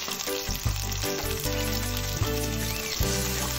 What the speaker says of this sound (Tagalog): lagay muna tayo ng mantika. Gigisa muna tayo ng bawang